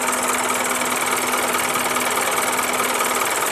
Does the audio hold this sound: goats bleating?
no